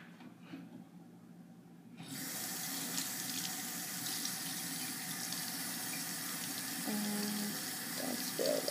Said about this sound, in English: I'm getting my water from the tap or the sink